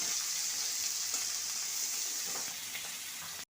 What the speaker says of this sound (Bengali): এবার জিরে আর পেঁয়াজ দিয়ে একটু ভাজা ভাজা করে নিচ্ছি।